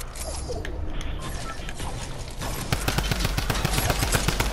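Rapid drum gun fire in a Fortnite Arena duos end game, a fast rattling burst of shots that picks up midway and keeps going, preceded by mechanical clicks and clatter.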